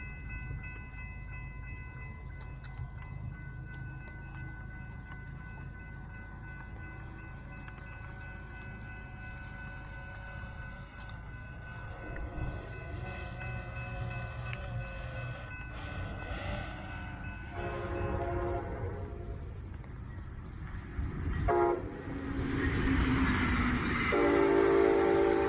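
A Brightline high-speed test train approaches from a distance and grows louder as it rushes past at 110 mph through rain showers, with a low rumble, sustained horn-like tones and rising wind noise.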